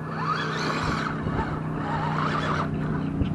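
A modded RC rock crawler truck on foam tires, rear tire caked with mud, slips back down a rock at an RC park, a steady whining motor and gritty scraping close by.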